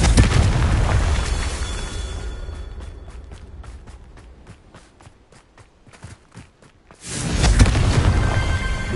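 Blasting spell explosions in the Hogwarts Legacy video game: a loud roaring blast fades into a run of sharp rhythmic crackles, then a second heavy boom erupts near the end.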